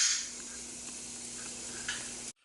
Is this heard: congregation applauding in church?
no